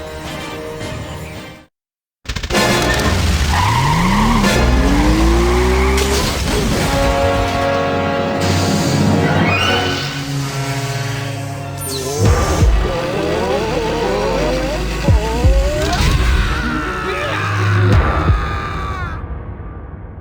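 In the Goodbye Deponia video game, a car engine starts after a brief silence and revs up, followed by clattering crashes and skidding noises as the vehicle drives off, loud and busy throughout.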